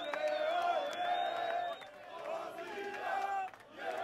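A large crowd of football fans in Shkodër celebrates an Albanian Cup win, escorting the team bus through the city at night. Loud, continuous chanting and cheering stays close and dense throughout, with brief dips between surges.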